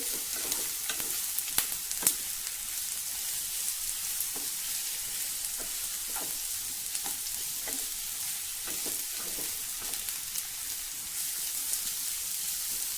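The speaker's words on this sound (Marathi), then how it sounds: "मध्यम गॅसवर हे ढेमशे व्यवस्थित आपण परतवून घेऊ।" Round gourd (tinda) stir-fried in a pan over a medium gas flame: a steady close sizzle with scattered clicks and scrapes from stirring, running for several seconds with no talking.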